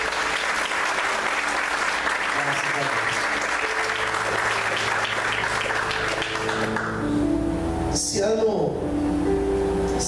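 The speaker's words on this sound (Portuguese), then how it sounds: "Vamos aplaudir o Senhor nessa manhã." A church congregation claps loudly and continuously for about seven seconds during a morning service, the applause thinning into murmurs, scattered sounds and some speech near the end.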